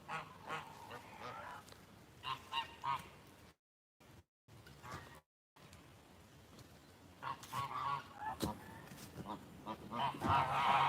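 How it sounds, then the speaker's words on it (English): Flock of sixteen geese honking in a farmyard, with repeated loud calls in bursts, brief gaps, and a stretch of overlapping honks near the end, mixed with a nearby person talking. "There's 16 geese here,"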